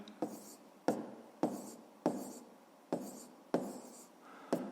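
Pen or pencil writing numbers for a fifth-grade math exercise, in repeated strokes about every 0.6 seconds, each starting with a sharp tap and trailing into a scratchy rub across the paper, close and quiet.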